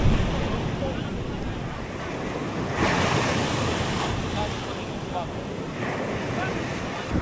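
Ocean surf breaks steadily on the windy shore at Antalya, Turkey, with a continuous wash of waves, heavier swells near the middle and end, and gusting wind rumbling across the microphone.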